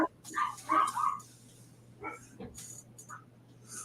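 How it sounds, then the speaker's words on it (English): Several dogs bark and whimper in short, agitated bursts, fairly close, then trail off into quieter yips over a faint steady hum. "something big has got the dogs upset"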